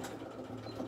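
A sewing machine stitches a small fabric flap, producing a brief, steady, quiet mechanical whirr close by.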